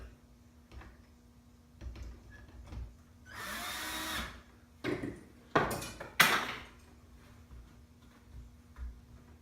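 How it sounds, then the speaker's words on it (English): Inside a camper, a drill drives two screws to mount a tablet holder: a whirring burst of drilling followed by several short, sharp drill pulses and light ticks among quiet pauses. "Just putting 2 screws in just to hold it."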